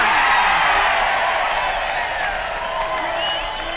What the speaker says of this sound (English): A big upset and the crowd is overjoyed.